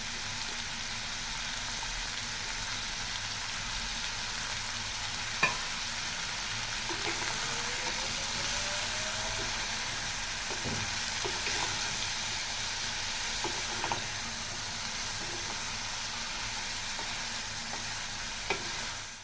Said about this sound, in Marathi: हे सुद्धा मटरसुद्धा मी तेलामध्ये फ्राय करणार आहे